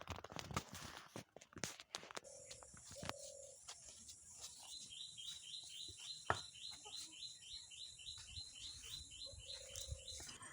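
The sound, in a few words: birds singing in trees in the morning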